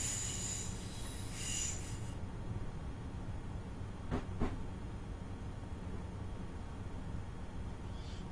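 BR424 electric train running on rails in Train Simulator 2016, a faint low rolling rumble with brief high wheel squeals and hiss at the start and two short squeal bursts midway.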